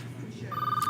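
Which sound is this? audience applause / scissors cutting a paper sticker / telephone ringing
telephone ringing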